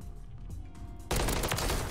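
Rapid automatic fire from the MCW rifle in Modern Warfare 3, a sudden loud close burst breaking in after a quieter stretch of game ambience and continuing dense to the end.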